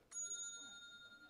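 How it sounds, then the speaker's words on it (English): A phone app plays a single bright bell ding, near and clear, with the clean tone ringing on and slowly fading over about a second. "I am going to use an app I have downloaded to ring a bell"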